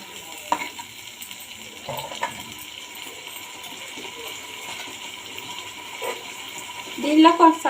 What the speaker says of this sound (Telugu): ఇవి బాగా వేయించుకోవాలి.